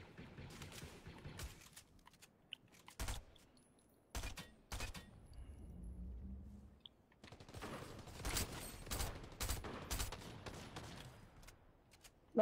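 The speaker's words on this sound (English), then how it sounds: "Oh, someone's trying to shoot me." Bursts of video game gunfire aimed at the player's character: sharp volleys spread across the clip, some isolated loud cracks and a denser stretch of rapid shots toward the end, with no talking.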